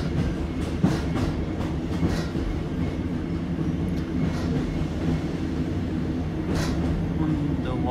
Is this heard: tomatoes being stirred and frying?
no